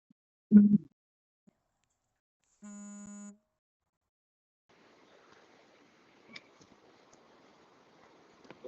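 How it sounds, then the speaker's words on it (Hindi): A single electronic buzz-tone rings for under a second, steady and fairly loud, after a brief thump; faint crackly noise follows in an otherwise quiet space. "उधर फोन आ रहा है"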